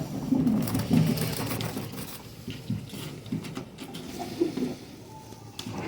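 Fakir Gul pigeons coo softly in a loft, with low murmuring calls scattered over steady handling noise and rustling, close by and without speech.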